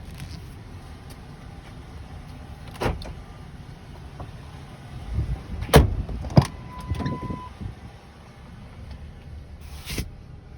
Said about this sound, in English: Rear window still works.